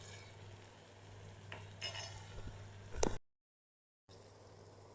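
A spoon stirs an aloe vera vegetable dish with salt in a pan, giving faint scraping and clinking strokes over a low kitchen hum before a short silence.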